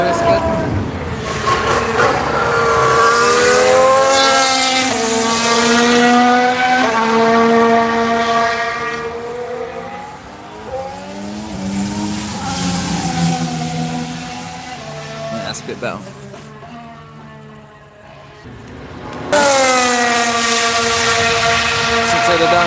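The 2019 Mercedes W10 Formula 1 car screams past on track at full power, its engine note climbing and falling through gear shifts, loud and then fading away before a second loud pass.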